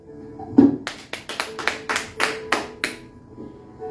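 A church congregation claps in a loose burst of separate, sharp hand claps after a call to praise the Lord, starting sparse and building into irregular clapping.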